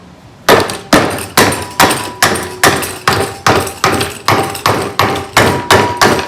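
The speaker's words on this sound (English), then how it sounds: "I'm using the wood because I'm hitting a lot harder." A piece of wood is struck hard against 413/426 Wedge engine cylinder heads in a loud, steady series of about a dozen heavy, ringing blows at a regular pace, with no talk.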